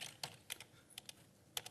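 Several scattered taps on a computer keyboard, quiet and close, with short irregular gaps and no voices.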